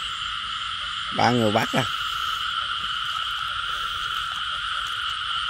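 Frogs croaking after heavy rain: a dense, continuous chorus of high, steady calls at night, with a short burst of talk partway through.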